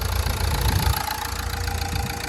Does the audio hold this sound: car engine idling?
yes